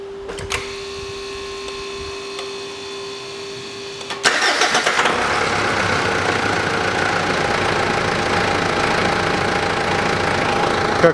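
A 2008 Mitsubishi Pajero 3.2-litre engine cranks over after a steady electronic tone, catches about four seconds in and settles into an even, close idle that runs on to the end.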